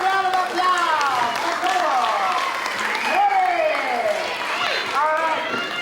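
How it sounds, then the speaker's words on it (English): A school audience at a Great Northern Circus show in Inuvik applauds, the dense clapping mixed with loud, high children's cheers and squeals that rise and fall throughout. "Give a huge round of applause!"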